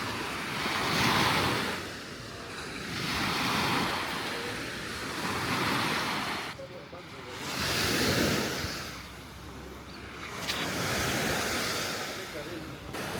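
Waves wash onto the black-sand shore of Lake Malawi in slow, rolling surges that rise and fall every few seconds, with steady wind noise buffeting the microphone and no voices.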